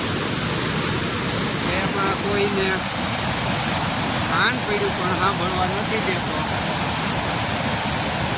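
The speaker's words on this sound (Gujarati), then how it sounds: "તો આ કુદરતી ધોધ" Bhaguda natural waterfall pours in a steady, broad rushing roar that fills the whole scene, with someone talking over the constant water noise.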